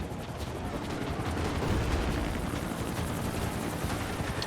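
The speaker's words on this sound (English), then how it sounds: "That is a lot of helicopter content in the sky." Helicopters flying overhead during a firefight in the video game Max Payne 3, a dense continuous rotor rumble and roar with rapid pulsing, loud and sustained throughout with no talk.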